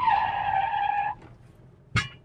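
A Jeep Wrangler TJ without ABS brakes hard in neutral, its tires letting out a loud, sustained squeal for about a second before stopping, followed by a sharp thump.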